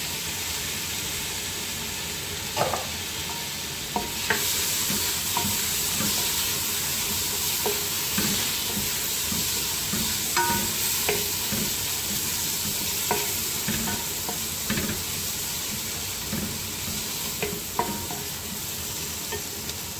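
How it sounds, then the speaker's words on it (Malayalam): Chopped tomatoes sizzle steadily in a hot pan for a spinach-green mutton curry, a broad continuous frying hiss broken by scattered clicks and scrapes of stirring, close and with no talk. "അതിലേക്ക് നമുക്ക് ഈ അരിഞ്ഞു വെച്ച തക്കാളിയും കൂടി ചൂടുക്കാം."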